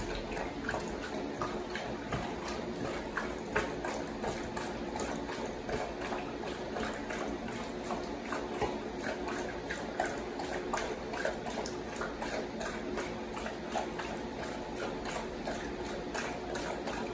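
Lilith the dog laps water close by, a steady run of quick wet laps and drips repeating for the whole stretch, with no voices over it.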